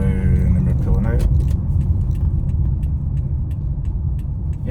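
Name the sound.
Toyota iQ car accelerating and pulling away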